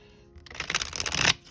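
A tarot deck being shuffled up close: a brief riffling flutter of cards lasting about a second, crisp and fairly quiet, alone with no talking.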